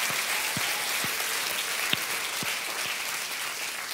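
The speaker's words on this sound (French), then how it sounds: "Est-ce que le peuple de Dieu peut faire une bonne main d'acclamation au Seigneur?" A church congregation applauding together, steady dense clapping filling the room at an even level throughout with no voices over it.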